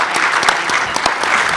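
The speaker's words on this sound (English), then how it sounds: "can we get a round of applause for Hillary, who has just moderated 3 panels?" An audience at an LGBTQ and aging symposium gives a round of applause, brisk close clapping from a modest crowd sustained at even strength through the brief span.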